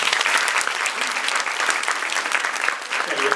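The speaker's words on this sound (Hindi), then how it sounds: "अपने लिए बहुत जोरदार तालियां, और अपने लिए तालियां बजा ली." Enthusiastic applause from students at a school session on entrepreneurship and innovation, loud rapid clapping from a roomful of people holding steady for a few seconds.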